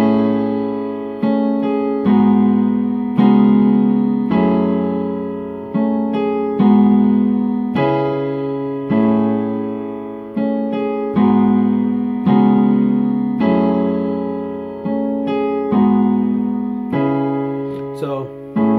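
Piano playing a song as a tutorial demonstration, a steady chordal groove of repeated struck chords with decaying notes, close and clear, with no talking.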